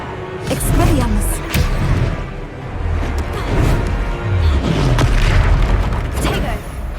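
Expelliarmus spell being cast in the video game Hogwarts Legacy, a loud booming magical blast with bursts and crackles, layered under a spoken voice throughout.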